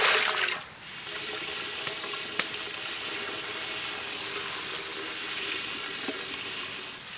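Water runs into a pan of sugar to make syrup for Hyderabadi double ka meetha, a soft continuous hissing stream that starts a little louder and then settles into a steady, quiet flow.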